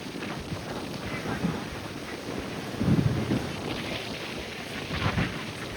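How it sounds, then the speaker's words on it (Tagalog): Strong wind roars and buffets the microphone at a beach in Binmaley, Pangasinan, Philippines, in steady, rumbling gusts, with a louder surge midway and another near the end. "Lakas ang hangin."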